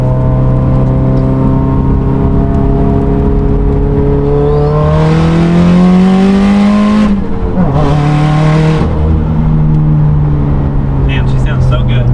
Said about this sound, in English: That killer V header, external wastegate just sounds so good on it.